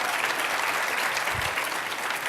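Sustained applause from a conference audience at a liberal arts higher-education gathering, dense steady clapping filling the room evenly from start to finish with no voices over it.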